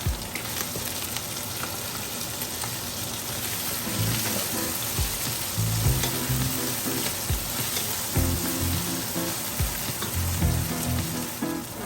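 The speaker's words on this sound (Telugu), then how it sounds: "ఇప్పుడు మనం సన్నగా తరిగి పెట్టుకున్న టమాటో ముక్కలు వేసుకుందాం" Chopped tomatoes frying with ginger garlic paste in a pan for jackfruit biryani, a steady close sizzle with occasional stirring scrapes and clatter running the whole time.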